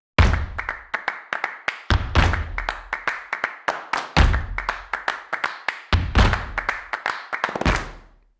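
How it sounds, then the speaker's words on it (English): Sampled snaps, claps and stomps played in a medium hall, a rapid run of hand claps, finger snaps and deep foot thumps with a short reverberant tail after each hit. "Now let's listen to some of the sounds from our medium hall patch."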